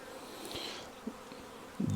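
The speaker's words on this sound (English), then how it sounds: "some of these bigger bees are called drones" Honeybees, including larger drones, buzz in a low, steady hum from a swarm being rehomed by a beekeeper, faint and continuous for a couple of seconds with a slightly louder burst at the end.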